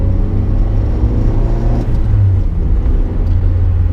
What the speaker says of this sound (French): on va faire crier le moteur